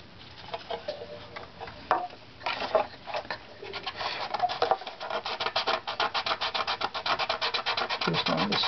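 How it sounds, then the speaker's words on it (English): A small block of fresh sandpaper rubs along a wooden violin back plate, starting with irregular scrapes and settling into fast, even back-and-forth strokes, close up with no speech. "We might be able to do that too with that little sandpaper block."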